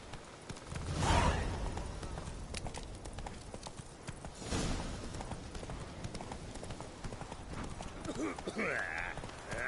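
Roach the horse from The Witcher 3 galloping, steady clip-clop hoofbeats running through the whole stretch with swooshing movement, brief game sound effects near the end.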